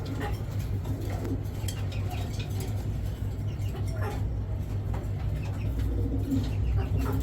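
Racer pigeons coo repeatedly and close up in a loft, soft low rolling calls layered over a steady murmur, with no talking.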